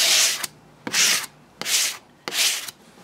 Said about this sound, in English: Now we're gonna still have to do some sanding on the stand.